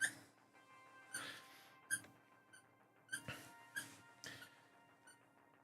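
A dog makes quiet, high squeaky noises in a room, a series of short sharp squeaks and whimpers spaced irregularly every second or so, faint and fairly close with low background hum.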